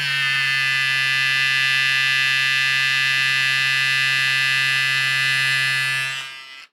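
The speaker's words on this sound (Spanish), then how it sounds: "hay un pequeño ventilador que se escucha ahí dentro" The small internal fan of a VGR 946 device runs with a loud, steady electric buzzing whir that holds evenly for several seconds and then cuts off abruptly.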